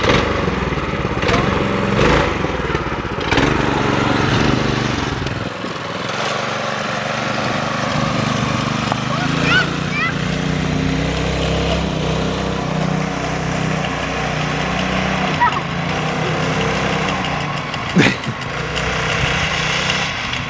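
A go-kart powered by a 212cc Predator engine runs continuously, its small single-cylinder engine buzzing loud and close, revving up and easing off with a few knocks and rattles.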